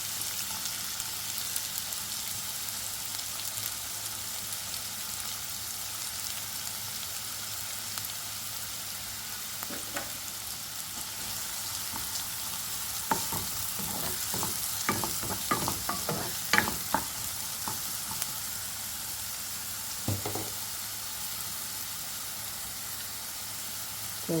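Chopped ginger and onion frying in a pan, a constant soft hiss of sizzling oil with bursts of spatula scraping and stirring clatter midway, close but fairly quiet.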